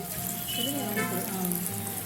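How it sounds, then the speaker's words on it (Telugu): Hot oil tempering for dal sizzles in a pan, a steady close hiss and crackle that runs the whole moment with a voice talking faintly over it. "ఈ పప్పుని కమ్మగా పోపు పెట్టేసుకోవాలండి"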